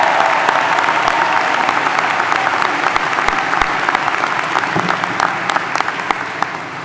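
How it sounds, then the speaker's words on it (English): A large graduation crowd applauds the Chief Medallion recipients at a high school ceremony, with dense, sustained clapping that holds steady throughout and fades slightly near the end. "Please give our Chief Medallion recipients a round of applause."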